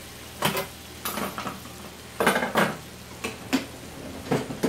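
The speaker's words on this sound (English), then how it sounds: "And we're going to throw our butter in there." Butter goes into a hot skillet with a soft sizzle, broken by several clanks and scrapes of utensils against the pan at uneven intervals.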